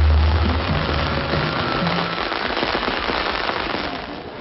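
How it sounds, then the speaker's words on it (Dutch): Dense crackling and popping of New Year 2000 fireworks fills the scene, a continuous rain-like sputter with a low rumble at the start, fairly loud. "Met als toemaatje vuurwerk."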